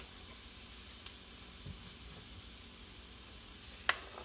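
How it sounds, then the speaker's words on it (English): Vegetables fry in a pan with a faint, steady sizzle and hiss, broken by a few small pops and one sharp crackle near the end. "We're going to get all of our veggies cooking."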